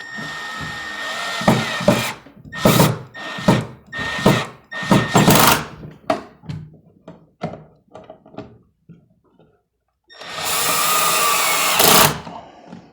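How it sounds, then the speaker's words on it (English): A power drill drives pocket hole screws through plywood into a wall stud, sounding as a series of short, loud whirring bursts close by, then a pause before one longer final run. "Now I can push the plywood up against the stud and drive them in."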